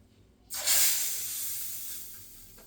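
Mustard seeds and cumin hit hot oil for tempering, a sudden loud sizzling hiss bursting in after a quiet moment and then slowly fading over two seconds, close by with no speech.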